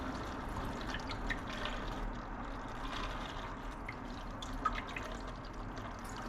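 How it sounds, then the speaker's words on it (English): Water trickles and drips steadily while a bottle is refilled, probably from a tap, giving a low, continuous liquid patter that stays fairly quiet throughout. "gonna refill some water."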